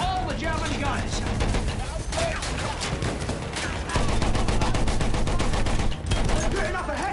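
Dense, continuous gunfire from German guns in a Battlefield 1 battle near a windmill, with rapid overlapping shots and explosions rolling on throughout at close range.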